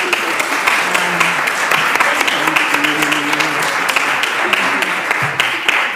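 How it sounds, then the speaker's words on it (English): Women's business summit audience gives a loud, sustained round of applause for a departing administrator, dense clapping throughout with a faint murmur of voices underneath. "Let's give our administrator one more round of applause."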